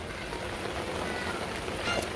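Steady rain falls outdoors in a village, a dense even patter that holds without a break.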